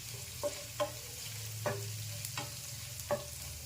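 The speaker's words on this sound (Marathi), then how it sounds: "त्यात मी अर्धा चमचा हळद टाकून घेते आणि मिक्स करून घ्यायचं।" A spoon stirs softened onion with turmeric in a frying pan, giving several distinct scraping strokes at an irregular rhythm over a low, steady sizzle, close and clear.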